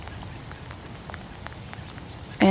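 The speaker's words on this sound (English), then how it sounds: "And it's raining today" Rain falling outdoors in a forest park, a soft steady patter of drops on leaves and ground, even and fairly faint throughout, with a louder burst of sound breaking in at the very end.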